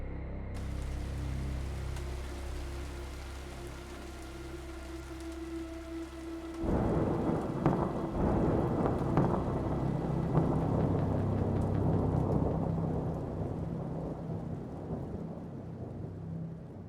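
A video game thunderstorm in Hollowbody: low steady rain hiss with a rumbling bed, then a sudden loud crack of thunder that rolls on beneath heavy rain on surfaces.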